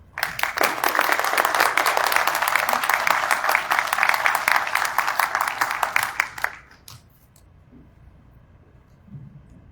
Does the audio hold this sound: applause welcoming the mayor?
yes